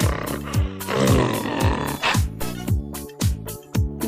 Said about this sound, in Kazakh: Горилла.